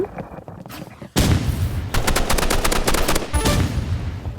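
Rapid automatic gunfire from a shooting video game, loud and sustained in dense bursts after a brief lead-in, with little talk over it.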